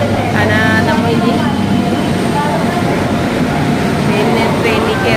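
An intercity train pulls into a station with a steady, loud rumble and squealing wheel and brake tones, while people talk nearby throughout.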